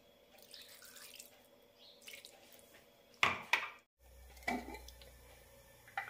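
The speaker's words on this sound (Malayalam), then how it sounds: "ഇനി ഇതിലേക്ക് വെള്ളം ഒഴിച്ച് അരച്ചെടുക്കാം." Water poured into a blender jar holding horse gram, a few short splashy bursts with clinks of the jar in a quiet kitchen, no talking.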